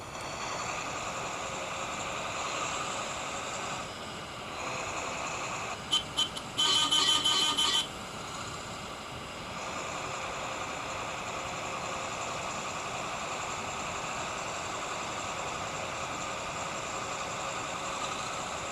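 A bus engine from the Kerala Bus Simulator game hums steadily at a moderate level throughout, with a brief burst of higher clattering and tonal sounds partway through, and no talk.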